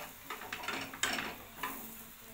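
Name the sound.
paratha frying in oil on low flame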